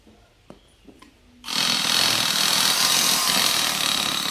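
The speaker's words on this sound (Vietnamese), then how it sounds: "Con này đầu kẹp 10 ly của Hitachi." A Hitachi power drill with a 10 mm chuck starts after a few faint clicks and then runs steadily and loudly, a continuous whirring motor hum with no talk over it.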